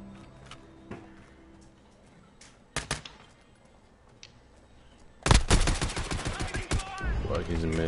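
Video game gunfire crackles in a multiplayer shooter, first a few scattered sharp shots, then a loud sustained burst of rapid automatic fire near the end, with players talking faintly.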